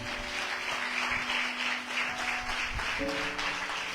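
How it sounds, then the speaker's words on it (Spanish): A church congregation at a Spanish-language family service applauds continuously, the clapping blended with soft sustained organ or keyboard chords underneath. "Dele fuerte ese aplauso al Señor."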